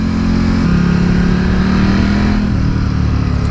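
A motorbike engine runs steadily while riding, loud and close, with a droning hum that shifts pitch slightly as speed changes; no one speaks.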